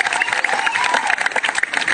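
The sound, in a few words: enthusiastic applause from the audience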